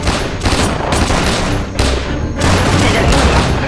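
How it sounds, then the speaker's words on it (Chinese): Dense, loud gunfire from a kung fu film battle scene against Japanese soldiers: overlapping rifle and machine-gun bursts pound continuously with barely a gap, with faint shouting mixed underneath. "前面射击！"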